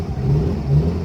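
A 2012 Suzuki Alto VXR car engine starting up and settling into a steady, low, close-up hum with a slight rise and fall in revs, heard alone for about a second.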